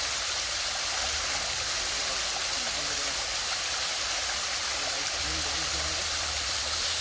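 Cataract Falls, a waterfall in the Great Smoky Mountains of Tennessee, roars as a steady broadband rush of falling water close by, continuous for the whole stretch, with faint voices mixed in under it.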